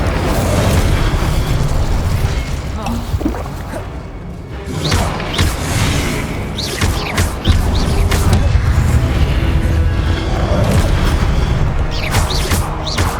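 Incendium fire spell cast during combat in the Hogwarts Legacy video game: loud, dense whooshing bursts and booming blasts rolling continuously with brief lulls, close and forceful.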